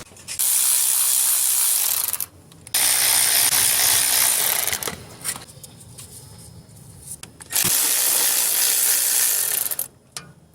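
Ratchet wrench backing out a 12mm bolt under a 2004–2009 Ford F150 5.4 3V during transmission work, three long loud bursts of rapid clicking about two to three seconds each, separated by quieter pauses with faint mechanical noise.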